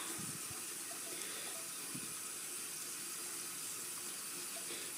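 Tap water running steadily into a sink while a makeup brush is rinsed, a constant faint hiss and splash with a few soft knocks, no talk.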